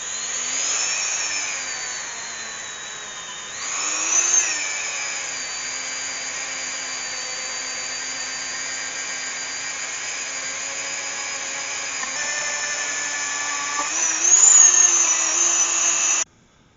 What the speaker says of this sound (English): Just went through my box of Dremel bits and I found this brush